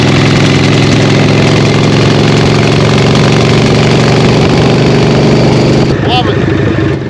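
An old Harley-Davidson Evo engine with custom exhaust on a hardtail chopper idles loudly and close, with a deep, uneven lumpy rumble that holds steady throughout.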